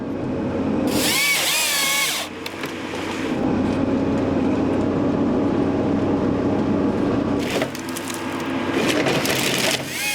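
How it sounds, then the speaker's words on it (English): A chainsaw cuts commercial plantation timber on a river floodplain being cleared for restoration, a loud, sustained whining drone that rises in sharp bursts near the start and again toward the end. "by the use of both chainsaw and timber harvester"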